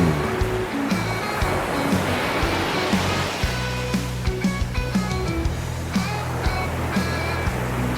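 Ocean waves and surf wash steadily along the Miami coast under a tonal musical backing, forming a loud, continuous rush with no talking.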